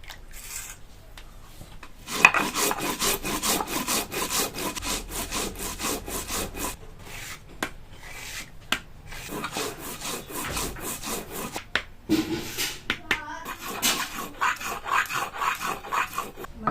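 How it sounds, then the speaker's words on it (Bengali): Whole cumin seeds ground on a flat grinding stone, a steady rhythmic scraping and rubbing of stone on stone with brief pauses, close and fairly loud with no talk. "গোটা জিরা বেটে নিব।"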